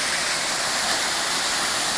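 Waterfall at the Baths of Adonis in Cyprus, a steady, dense rush of falling water filling the whole clip at close range, with no voices.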